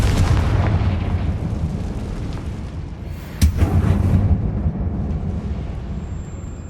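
Confringo fire spell bursting inside an abandoned mine in the game Hogwarts Legacy, a sharp blast at mid-clip over a continuous loud rumbling game soundscape.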